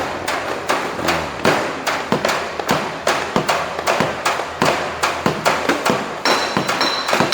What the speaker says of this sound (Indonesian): Doli sama palu harus kena ting ting gitu.